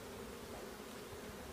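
Honeybees buzz at a hive entrance, a faint, steady, dense hum of many insects with no other sounds standing out.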